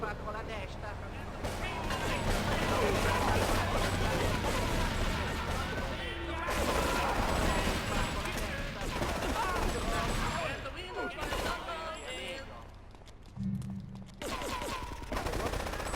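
Sustained automatic assault rifle fire in the PC-era shooter GTA3, dense rapid bursts crackling almost continuously with brief gaps, loud and close, with someone talking over the shooting.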